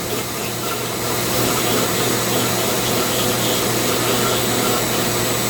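A Dremel rotary tool with a burr carves wood, giving a steady, close, continuous high-speed whine and grinding hiss with no break in its level and no talk.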